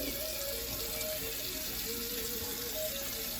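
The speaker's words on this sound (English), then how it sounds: "let me add water to my face." Water runs steadily from a tap at a bathroom sink as a man wets his face during a straight razor shave, a constant close hiss with no pauses.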